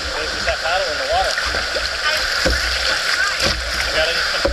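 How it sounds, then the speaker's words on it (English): A paddle dips and splashes in river rapids at Knights Ferry, irregular close splashes and gurgles over the continuous rush of moving water, with people talking throughout. "put that paddle in the water"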